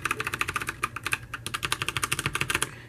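Rapid typing on a mechanical keyboard with brown switches, a quick dense run of soft, non-clicky keystrokes, close up and with no talk.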